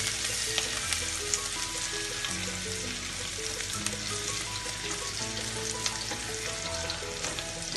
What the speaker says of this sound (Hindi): हरी मिर्च, अदरक, थोड़ा इसे हम पकने, थोड़ा ब्राउन, हल्का ब्राउन होने तक इसे फ्राई कर लेंगे